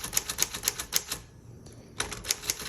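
Typing on a 1954 Smith Corona Tabulator typewriter: a quick, even run of crisp key strikes, a brief pause, then another burst of strikes, close and clear.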